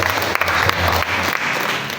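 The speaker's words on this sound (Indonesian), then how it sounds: "Kita berikan tepuk tangan." Applause from a church congregation during a sermon fills the space with a steady, dense wash of clapping that holds evenly throughout, with no voices on top.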